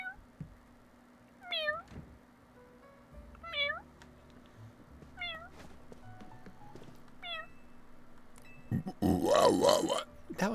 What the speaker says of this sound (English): That one was a burp.